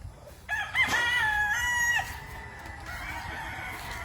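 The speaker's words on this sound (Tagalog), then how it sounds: "malalaking manok." A single rooster crows once on a Philippine farm in Claveria, Misamis Oriental, a clear nearby call of about a second and a half, followed by quieter farmyard background.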